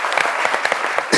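Brief burst of audience applause welcoming a performing troupe at a midday show, a thick crowd clapping with scattered sharper claps standing out.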